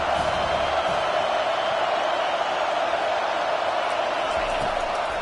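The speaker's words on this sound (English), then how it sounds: "Decibels rising as the crowd gets behind this defense on 3rd down" Stadium crowd noise at a TCU vs Florida State college football game on third down, a steady, dense roar that holds loud throughout without clear peaks.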